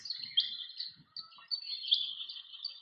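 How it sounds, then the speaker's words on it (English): A recorded ringtail pigeon call, triggered by a motion detector beside a painting in a gallery bird exhibit, plays as a steady series of high chirping notes with faint low murmurs beneath. "There's the ringtail pigeon."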